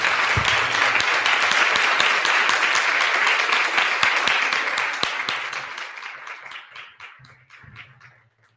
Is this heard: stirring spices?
no